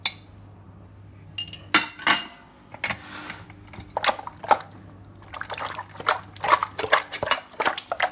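Tanjia with bones, olive oil and saffron water being shaken in a pressure cooker pot, giving a run of clinking, knocking and sloshing bursts at close range, with no voices.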